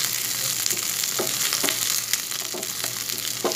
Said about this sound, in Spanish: Que se doren un poco las verduras que tenemos en esta sartén